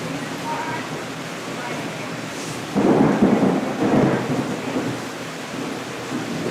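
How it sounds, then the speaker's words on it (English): Thunder rumbles outdoors during a rainstorm, a low rolling peak building and fading over a few seconds above a steady bed of rain noise. "I'm not sure if you can hear this thunder out here or not."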